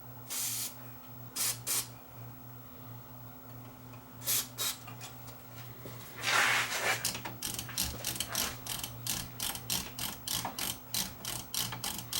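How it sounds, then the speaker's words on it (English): Contacts of the rotary tape monitor switch in a Sansui 7070 receiver click as the switch is turned during cleaning, with soft spaced clicks and a spray hiss, then a quicker steady run of close clicks over a faint hum. "See the contacts turning? That's the tape monitor switch."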